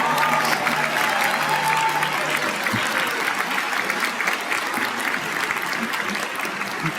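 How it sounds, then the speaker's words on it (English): A large commencement ceremony audience gives sustained, dense applause, a steady wash of many hands clapping at full volume throughout with faint cheering mixed in. "So let's give them a big round of applause."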